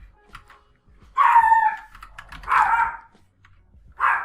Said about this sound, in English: And yes, I have a dog.